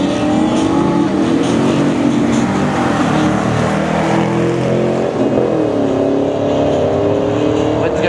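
Drag racing cars, a Trans Am and a Mustang, roar loud and close at the strip, engines revving with rising and falling pitch, while an announcer's voice carries over them.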